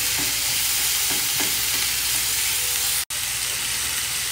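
Minced meat sizzles steadily in a hot pan while being stirred, a dense continuous frying hiss with soft scraping strokes, close and loud, broken by a brief silent gap near the end; no one speaks.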